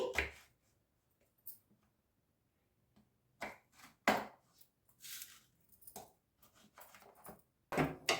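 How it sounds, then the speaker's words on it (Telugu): Knife cutting through whole brinjals on a board, a series of short sharp chops in irregular bursts with quiet gaps between, close and fairly crisp. "ఇట్లానే ఉన్న వంకాయలు మొత్తం కట్ చేసుకుని తీసుకోండి"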